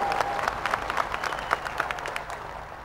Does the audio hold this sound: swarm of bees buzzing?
no